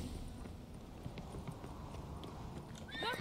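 Horse hooves clop steadily in The Witcher 3 video game, a quiet, continuous rhythm of hoofbeats with a faint voice and game sounds near the end.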